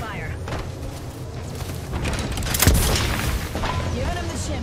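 Gunfire and explosions in a shooter video game, with a heavy boom near the middle and sustained firing throughout, mixed under a player's voice and game sounds.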